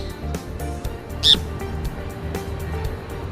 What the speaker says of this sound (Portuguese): um passarinho tava batendo na janela, a gente conseguiu pegar ele